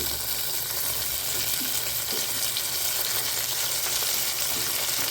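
Onions and tomatoes fry in a pan with a steady, soft sizzle and crackle that continues unbroken without voices.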